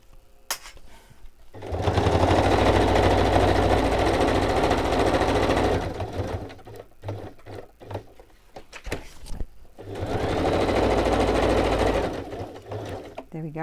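A sewing machine stitches through a paper collage kit in two steady, close whirring bursts separated by a pause full of handling clatter.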